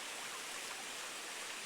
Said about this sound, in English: I've got the waterfall coming to my left